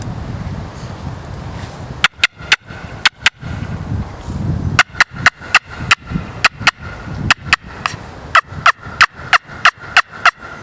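A turkey hunter's trumpet call made to imitate a hen, given as sharp rapid yelping notes in two bursts, loud and close, over steady outdoor wind noise.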